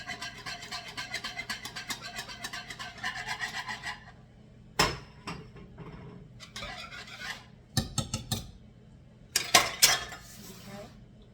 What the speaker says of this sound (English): you're going to pour this in while you're whisking